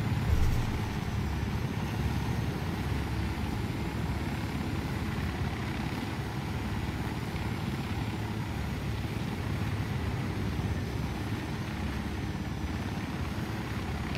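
A helicopter in Ghost Recon Wildlands hovers nearby, its rotor and engine making a steady, loud, unbroken drone with no talk.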